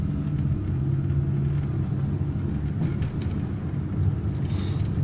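A 1984 Toyota Camry on a test drive, heard from inside as a steady low engine drone and road rumble that holds evenly throughout, with no voices.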